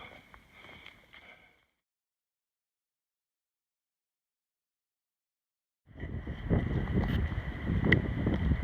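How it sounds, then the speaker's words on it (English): Wind gusting across a snowy Appalachian Trail in April, roaring and buffeting the microphone in two loud bursts with a long silent gap between them, no voices. "don't know if you guys can hear that, but the wind is whipping"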